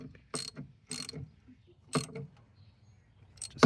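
A 10 mm wrench snugs down bolts while an ignition coil pack is changed on a 2001-2007 Dodge Grand Caravan, giving four short, close ratcheting bursts separated by brief pauses.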